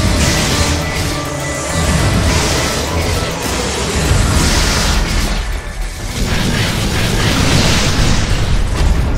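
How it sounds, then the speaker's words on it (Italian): Fire grenades go off in the inFamous video game as a dense, loud, continuous roar of blasts and crackling bursts that barely lets up. "Mi ha lanciato delle granate di fuoco."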